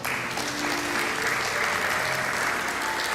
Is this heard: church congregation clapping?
yes